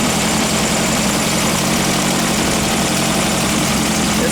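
Engine fitted with Weber/Dellorto carburetors running steadily while being flow-meter tuned, a loud continuous roar with intake hiss and no break or speech.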